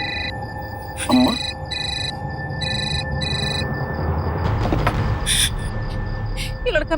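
A telephone rings in a series of short repeated bursts, with background noise and muffled voices around it.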